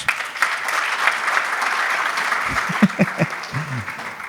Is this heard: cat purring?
no